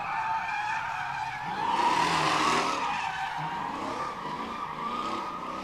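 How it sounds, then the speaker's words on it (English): A Hemi-powered automatic four-door car revs hard while its tires skid and squeal in a rising, sustained screech at a test-and-tune session, engine noise holding steady underneath. "Work that throttle"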